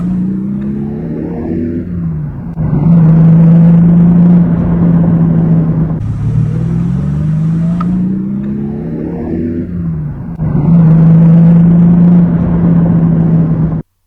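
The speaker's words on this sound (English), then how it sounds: "And then I took it for a test." An MGB GT V8 engine on a test drive, running with a digitally programmable distributor, rises and falls repeatedly through the gears, loud and close, with surges of revving between steadier cruising stretches.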